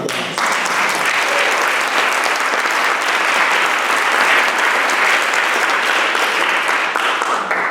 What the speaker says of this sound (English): I think that alone deserves a round of applause.